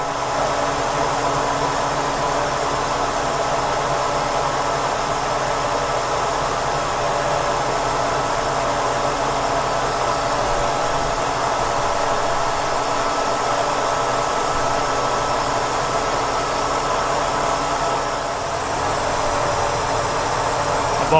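Kearney & Trecker milling machine cutting at a slow 2 inch per minute feed and 168 RPM, a loud continuous broadband whir and machine drone that holds steady for about twenty seconds before shifting slightly near the end, with no speech.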